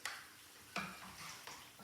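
Minced pork frying in a pan, with a few stirring scrapes recurring roughly every three-quarters of a second over a steady sizzle, close and moderately loud.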